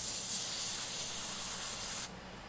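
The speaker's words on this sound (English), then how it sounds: "We can do a little test spray if we want" A steady, airy hiss of a Micron SB airbrush test spraying without paint for about two seconds, then cutting off abruptly to a quieter background.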